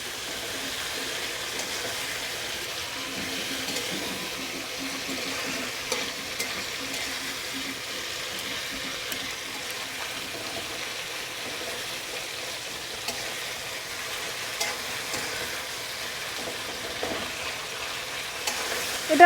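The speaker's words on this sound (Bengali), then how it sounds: "এটা কিছুক্ষণ ভাজা করতে হবে।" Chopped onions, two large ones, frying in oil in a pan for a Bengali prawn dish, with a steady close sizzle broken by scraping stirring strokes throughout; no talking.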